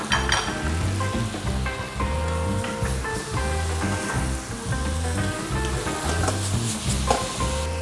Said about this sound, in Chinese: 只要咧你一路炒又炒，系咁快炒